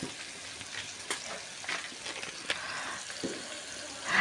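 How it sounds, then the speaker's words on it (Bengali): Dried fish fries in a pan with turmeric, a soft continuous sizzle with scattered crackles and stirring scrapes, fairly faint and close, no talk. "মাছটা দিয়ে আমি প্রায় এক মিনিট ভেজে নিয়েছি এক চামচ হলুদ দিয়ে দিলাম"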